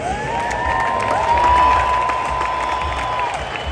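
A large crowd at Dodger Stadium applauding and cheering, a broad roar of many voices and claps sustained throughout, with a whistle-like tone rising above it.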